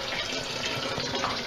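Water running steadily from a tap while filling for a Flanders red sour beer brew, a loud, continuous splashing rush close by with no voices.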